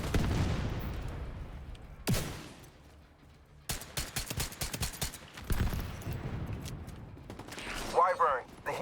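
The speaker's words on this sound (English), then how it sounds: "I'm gonna shoot at the things now." Video game gunfire crackles in rapid bursts and volleys with loud booming shots, some low rumbling blasts and mechanical clatter between them, with a voice talking underneath.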